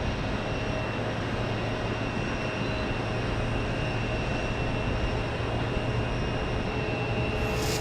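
An Air Canada airliner at Phoenix airport, its engines producing a steady, unbroken broadband roar at moderate distance that holds level for the whole stretch.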